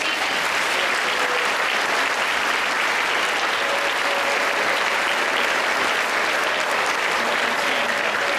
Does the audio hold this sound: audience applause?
yes